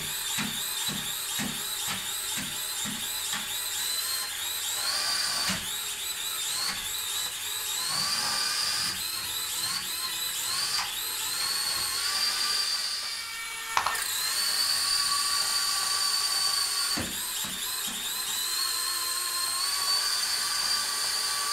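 A prototype robotic vacuum cleaner running a bumper test, a high-pitched whining motor with repeated rising and falling tones, clicks and bumps as it moves and turns, steady and close.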